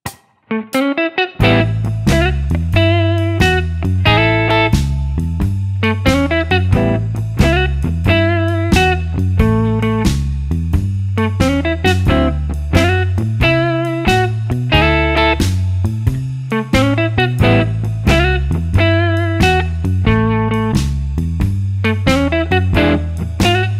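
Electric blues guitar on an Epiphone Sheraton II Pro, played with chord comping and a lead solo line. The playing is continuous, loud and clear, with steady rhythmic strums and bright picked notes, and there is no talking.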